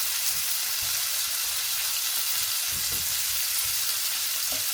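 Shrimp sear in a pan for Tuscan butter shrimp, a steady close sizzle of frying with faint stirring bumps, no talking.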